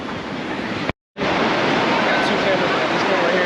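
Ocean surf rolls along the shore at Charleston as a continuous loud roar mixed with wind buffeting, broken by one short dropout.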